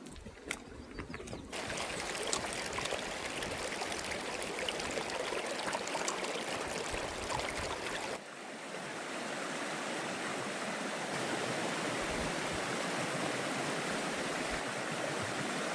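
A river flows through a mountain forest, heard as a dense, continuous rush of water close by that stays loud and steady throughout, with no voices.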